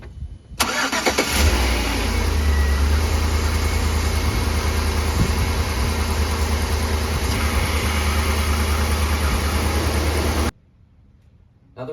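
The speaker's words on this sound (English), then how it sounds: "Once the vehicle's running" A car engine starts and runs at a steady, loud idle for about ten seconds during a battery and charging system test, then cuts off abruptly.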